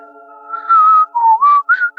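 A person whistles a short wavering tune, imitating an eerie whistle heard near a haunted house in Suhbong Park, Incheon; close and loud, with a held note followed by a few rising and falling notes.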